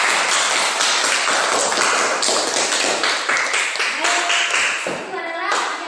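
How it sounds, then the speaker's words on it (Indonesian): Students in a classroom clap together in a dense, loud burst of rapid hand claps that lasts a few seconds. Children's voices rise briefly as the clapping tapers off at the end. "Tepuk tangan."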